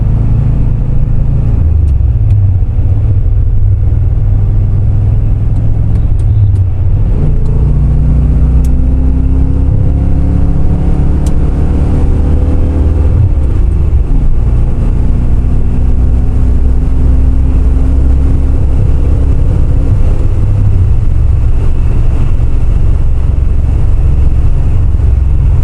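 A C4 Corvette with Crossfire injection drives on a busy road, its loud engine revving up through the gears with rising shift tones and heavy wind and road rumble throughout.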